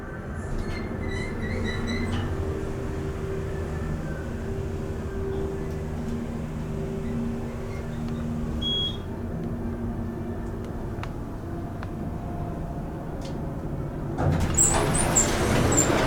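A Dover hydraulic elevator at a Las Vegas casino hotel runs upward with a steady low motor drone and hum. Faint clicks and creaks sit over it, and the sound grows slightly louder near the end.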